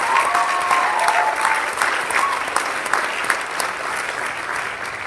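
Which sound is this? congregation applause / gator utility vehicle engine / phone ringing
congregation applause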